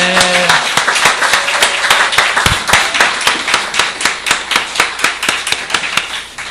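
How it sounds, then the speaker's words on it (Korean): A church congregation claps together in thanks for a pastor and his wife, the sharp, loud claps falling into a strong unison rhythm of roughly two per second with the odd shout at the start. "우리 김호 목사님 부부에게 감사 박수 할까요?"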